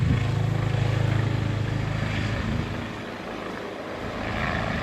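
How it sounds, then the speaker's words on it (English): A helicopter flies over Litchfield Park, Arizona, after 1 am. Its low rotor drone is loud at first, then fades as it moves off and swells again toward the end. "First I thought it was a medevac helicopter"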